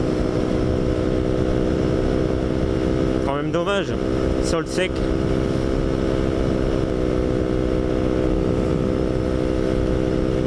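A KTM 125 motorcycle rides on a cold, dry road in the Aisne, its engine giving a steady, droning buzz throughout while the rider talks over it, with brief wind buffeting partway through.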